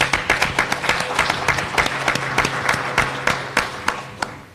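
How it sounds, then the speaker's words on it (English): Applause from an audience at a chamber of commerce luncheon for its sponsors, with dense clapping and sharp individual claps punctuating a steady roar for a few seconds. "Please give a round of applause to our sponsors."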